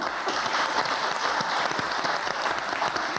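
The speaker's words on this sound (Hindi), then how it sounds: "तालियां नहीं बजानी थी" An audience at a live comedy show breaks into dense, sustained applause, many hands clapping at once in a steady roar that holds for several seconds.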